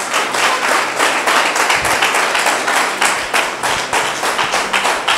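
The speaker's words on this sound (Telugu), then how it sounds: "గట్టిగా చప్పట్లు కొడదామమ్మా." Church congregation clapping loudly together in steady, dense applause that fills the whole moment, with brief tapping accents and no clear talk over it.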